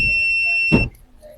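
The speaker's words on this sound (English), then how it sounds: "So it means that the continuity test on this one is working." A multimeter continuity beep sounds while testing a Toyota O2 sensor, Bank 1 Sensor 1: a single steady high electronic tone, close and clear, running about three quarters of a second before it cuts off into quiet.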